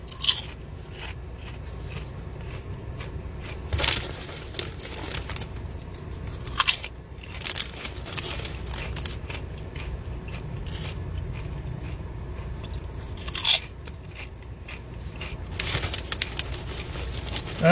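Crunchy Lay's BLT-flavoured potato chips being bitten and chewed up close, with repeated sharp crunches and crackly chewing over a steady low background.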